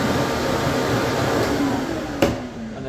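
A Prolux wide area vacuum runs with a steady, loud broadband roar close by, testing suction at the hose port, with one brief knock partway through and no talk.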